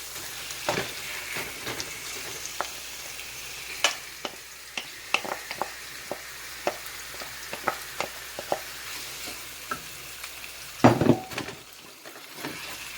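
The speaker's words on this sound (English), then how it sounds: "So now I'm gonna add my ground beef." Ground beef cooking in a hot pan for a Jamaican spicy beef patty filling, with a soft, steady sizzle broken by frequent sharp clicks and scrapes of a spoon stirring against the pan, and a louder cluster of clatter near the end.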